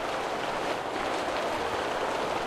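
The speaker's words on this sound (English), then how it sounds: "it's raining hard in here" Heavy rain pours indoors in a surreal itch.io game, a dense, even roar of falling water that holds steady throughout.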